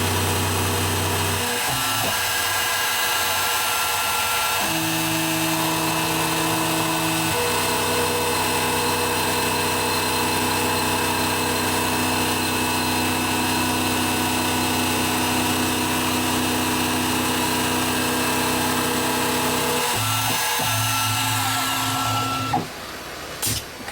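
A G0602 metal lathe taking a finishing pass, a steady whining hum with layered tones that shifts pitch a few times and runs for about twenty seconds before cutting off.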